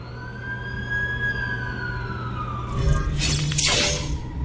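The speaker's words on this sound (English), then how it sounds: "That's the ambulance I called." An ambulance siren wails from a distance, rising and falling slowly over background rumble, followed by a sudden burst of crashing, shattering noise.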